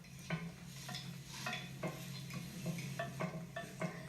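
A flipped oat tortilla fries in a pan with a steady low sizzle, and light scraping or pressing sounds recur at a regular pace, with no speech.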